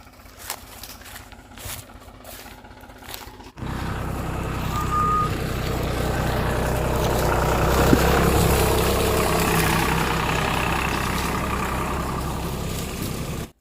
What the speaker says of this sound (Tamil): வண்டி மிஷின் அடிக்கிற வண்டி வந்துருச்சு